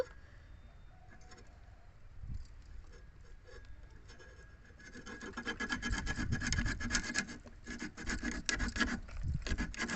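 Fresh, still-live canal fish are cut and cleaned, producing scraping and rasping strokes that start sparse and quiet, then turn into denser, louder rhythmic scraping in the second half, close by and without speech.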